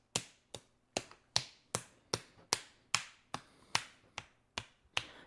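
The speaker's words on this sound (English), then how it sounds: "So then we're going to clap here." Hands clapping against the body in a steady run of about a dozen sharp, close slaps, roughly two per second, each a crisp percussive crack with a short decay, no voices.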